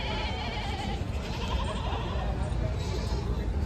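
Osmanabadi goats bleating at a busy rural goat market, a dense continuous wash of animal calls and crowd noise with people talking throughout.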